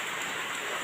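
Rain falls outdoors in a steady, loud, close hiss with no break and no voices over it.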